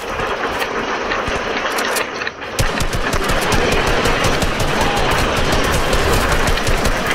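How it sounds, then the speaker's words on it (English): Rapid bursts of automatic gunfire from a Fortnite match, loud and dense with sharp repeated cracks over a rumbling background, nearly continuous across the clip with a brief lull before resuming; no talking. "there's a nice shooting here"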